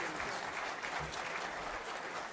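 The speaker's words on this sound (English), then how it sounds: "One more round of applause for our speakers" Steady applause from an audience at a climate science debate fills the room, a dense even clatter of many hands clapping at once, with no voices standing out.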